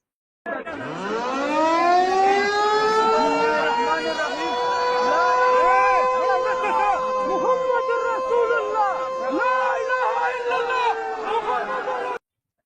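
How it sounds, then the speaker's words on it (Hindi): A civil defense siren wails at night in Sialkot, Pakistan, rising at the start and then holding a long, loud, steady tone, with crowd chatter and voices beneath it. "रात में वहां मिसाइलें दिखी हैं और सायरन की आवाज सुनाई दी है पाकिस्तान में।"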